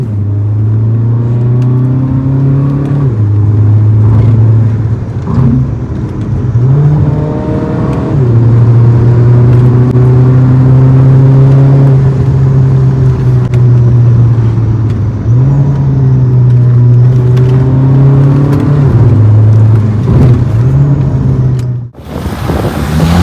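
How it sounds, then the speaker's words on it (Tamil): A Stage 5 custom-turbo Skoda Laura 2.0-litre diesel pulls hard through the gears, a loud droning engine note climbing and dropping with each shift, sustained for over twenty seconds before cutting off abruptly. "பட் வெறும் பியூர் ஆக்சலேஷனோட மட்டும் இருக்கும் இந்த வீடியோ."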